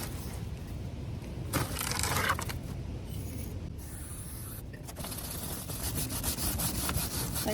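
Steady brushing on a 2016 KTM 390 Duke motorcycle chain, a continuous rough rubbing scrape with slight swells in intensity, close and alone without talk.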